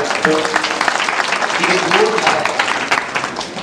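Audience applause at a Marathi devotional singing program, a burst of clapping mixed with voices over a loud, busy background.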